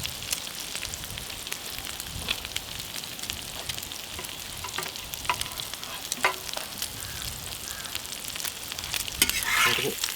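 Beaten egg with capsicum and black pepper sizzles and crackles steadily in a hot pan for a Kerala-style omelette, with occasional sharper pops and a livelier burst of frying near the end, and no voices.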